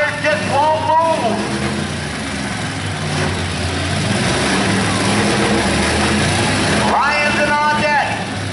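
Demolition derby car with its engine running while its tires are stuck, a rough low idle and drone heard continuously, with brief high engine whines flaring near the start and end and crowd or announcer voices over it.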